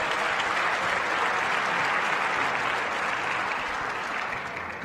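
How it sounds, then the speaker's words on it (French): A crowd at a youth archery championship final in an indoor arena gives sustained, loud, even applause that holds steady before easing off at the end. "Vous l'applaudissez, s'il vous plaît, très très fort."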